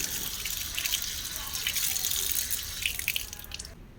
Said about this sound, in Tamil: நல்லா மண் இல்லாமல் வாஷ் பண்ணிக்கலாம்